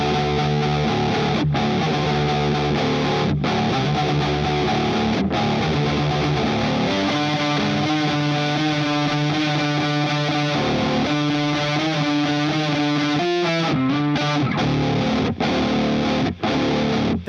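An electric guitar riff played through an Electro-Harmonix Pitchfork octave pedal, thick, layered and sustained with a distorted, chorus-like shimmer, steady and loud throughout with no talk.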